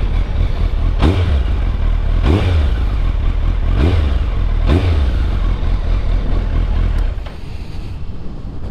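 A Suzuki Hayabusa GSX1300R fitted with an aftermarket Yoshimura muffler revs up hard four times in quick succession, each blip rising and falling, before settling to a steady, slightly louder-than-stock idle at close range.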